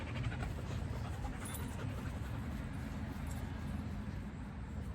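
A dog named Lambeau pants steadily and rhythmically after playing outdoors, quiet and continuous.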